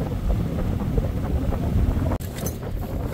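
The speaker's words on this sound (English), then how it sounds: "it's quite a bit of a wind out here now" Strong wind roars across the microphone aboard the sailing boat Lively Lady at sea off New Zealand, a steady broadband rush with a brief dropout near the end and waves faintly beneath.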